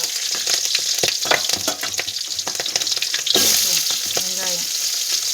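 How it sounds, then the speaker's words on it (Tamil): Green chillies and curry leaves spit and crackle loudly in hot oil in a village kitchen, with a dense steady sizzle and the occasional scrape of stirring close at hand. "பச்சை மிளகா கிட்டக்கு நின்று அவ்வளோதான், மூஞ்சியில் வெடிச்சு வந்துடும் பச்சை மிளகா"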